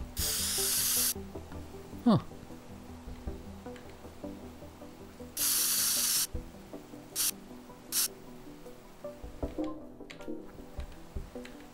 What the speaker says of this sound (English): What else do I have? A spray can.